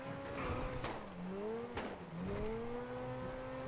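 Racing car engines in the video game M.A.G. whine and rev up and down through gear changes, loud and continuous, with a couple of sharp clacks in between.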